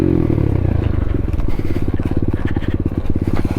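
A pit bike motorcycle is ridden close by. The small engine's loud, rapid pulsing putter rises in pace as it revs, with light clatter and scraping over rough ground and no talk.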